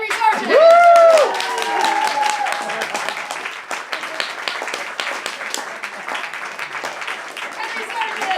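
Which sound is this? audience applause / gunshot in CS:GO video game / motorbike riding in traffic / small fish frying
audience applause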